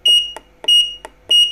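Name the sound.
beep of digital mosque clock while setting time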